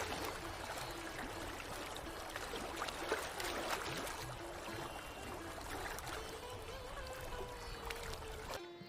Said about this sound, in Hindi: शहर का सारा पानी गटर के अंदर चला जाता है